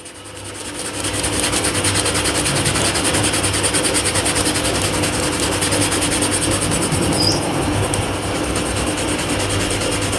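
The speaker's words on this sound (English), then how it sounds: "put some of the applicator at the back there. Just right, let's rub it in." A scratch-remover applicator is rubbed by hand into a golf club wood, giving a steady, close, continuous scraping friction that runs nearly the whole clip at even loudness without any talk.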